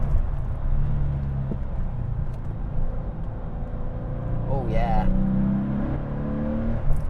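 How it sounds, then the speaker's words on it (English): Flat-six engine of a modified Porsche 993 911 revs steadily and loudly, its pitch climbing near the end as the car accelerates, with a brief spoken exclamation over the engine. "The sound of the flat 6 as well, I mean, get it to 5K and it will absolutely sing for you."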